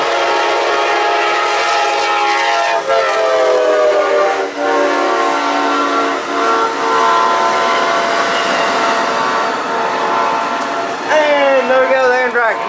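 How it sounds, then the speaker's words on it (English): An Amtrak Silver Star southbound passenger train, bound for Florida, roars past close by with a loud continuous rumble and sustained horn tones, and a final horn blast near the end. "Here comes another train. Leaves an Amtrak southbound my micro."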